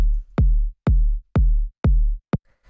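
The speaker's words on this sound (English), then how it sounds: "we just have this kind of like punchy 808 style kick" A punchy 808-style kick drum from a melodic techno track hits five times at an even pace. Each thump is deep and booming with a short click on top. The kick is loud and isolated, with nothing else playing.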